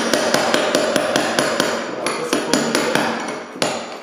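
A hand chisel struck by a hammer chips old coating off a parquet floor over a cement layer, a steady run of sharp, close impacts about every quarter second, each one bright and percussive.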